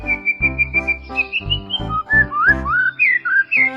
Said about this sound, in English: It was only a little bird singing outside his window.